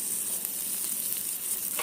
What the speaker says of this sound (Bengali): রসুনও আমি খানিকটা হালকা ভেজে নিচ্ছি